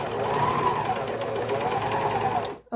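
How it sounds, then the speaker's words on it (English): A sewing machine stitches a shoulder seam on a doll romper at a steady, fast whir close to the mic, then stops abruptly at the end. "you just want to sew down the shoulder"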